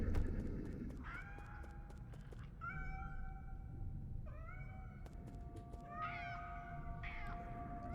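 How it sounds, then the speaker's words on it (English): House cats meowing in the video game Nine Sols: several clear, drawn-out meows follow one another over a steady low ambient rumble, with no talking. "Those look like house cats."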